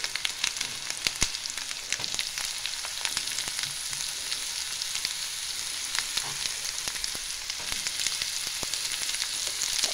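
Pieces of cut ridge gourd frying in a pan with ginger garlic paste for a chana dal curry, giving a steady, close sizzle with scattered crackles and pops throughout, no talking.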